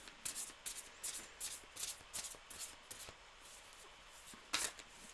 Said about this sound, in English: I'm hopeless at shuffling this way